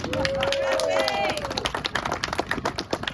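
An outdoor crowd at a steam locomotive dedication claps for the smoke machine, scattered hand claps rising and thinning over a few seconds, with a brief tonal whistle-like sound and background chatter.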